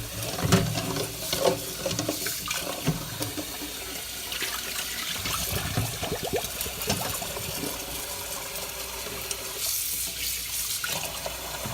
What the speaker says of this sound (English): run them under cold water.